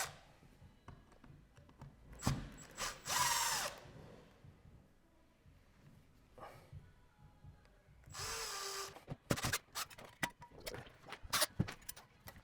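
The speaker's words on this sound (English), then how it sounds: "we're going to go ahead and remove the plaster washers" A power drill backs plaster washers out of a cracked plaster wall in several short, sharp whirring bursts separated by quieter stretches of small tool clicks and handling noise.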